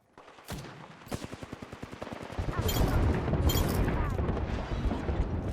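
Rapid bursts of automatic gunfire and heavy explosions in a PC shooter game, loud and continuous, building into a dense barrage with scattered voice callouts over the combat.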